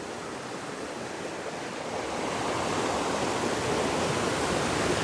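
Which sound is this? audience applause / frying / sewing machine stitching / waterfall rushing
waterfall rushing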